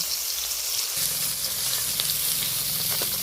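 Bhetki fish fillets sizzle and fry steadily in hot oil in a pan, a continuous close hiss with soft bubbling underneath, no voices.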